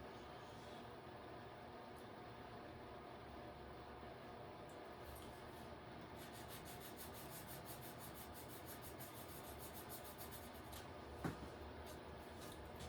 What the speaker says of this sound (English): Carving away at this eye socket shape here.